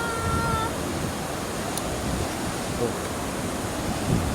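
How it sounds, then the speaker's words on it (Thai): Water at a natural waterfall rushes in a steady, full hiss with no pauses, sounding close and constant throughout. "เสียงน้ำต้นตาด"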